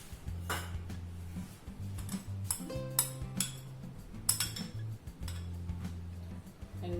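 A spoon clinks and scrapes against a big bowl while scooping about a cup of hung curd for mango shrikhand, giving bright metallic taps and clatters in an irregular run, close and alone, with a low kitchen hum beneath.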